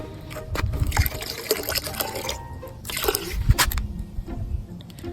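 Water pours and splashes in uneven bursts at a car wash, with trickling and dribbling sounds close by and a few louder gushes.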